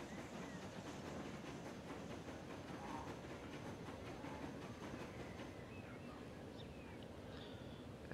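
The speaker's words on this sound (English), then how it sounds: "There comes another return journey train." In the Transport Fever video game, a train rolls past with a steady, dense rushing and rattling that holds at an even, fairly quiet level throughout.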